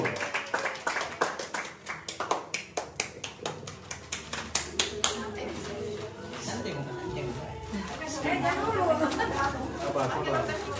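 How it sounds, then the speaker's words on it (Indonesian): A group claps for team one during an indoor retreat gathering in Malino, giving brief rhythmic, slightly sparse hand claps that taper off into room chatter and murmuring voices. "tepuk tangan dulu dong buat kelompok 1"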